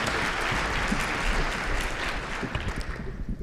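An audience at a wine symposium gives sustained, dense applause to welcome a speaker to the stage, filling the room steadily from start to finish.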